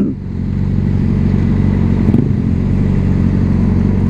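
Heavy motorcycles, including Suzuki Hayabusas, idle and rumble nearby at a large outdoor bike show, a loud, continuous, throbbing low engine drone with slight swells and no clear talk.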